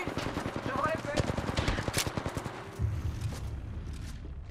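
Apex Legends gunfire cracks out in rapid automatic bursts, loud and close, then fades into quieter game noise toward the end.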